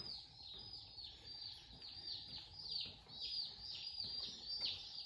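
Meat chickens cluck and chirp in a busy, continuous chorus as the flock is brought closer, with no talking.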